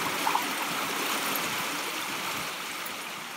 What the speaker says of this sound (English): it just puts more water over the top of the